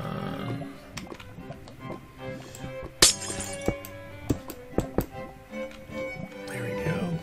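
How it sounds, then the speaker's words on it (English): Glass blocks breaking in Minecraft during survival play, heard as a series of sharp clinking shatters spread across the clip over steady background game sounds and music. "It really is easiest to break the glass with the glass"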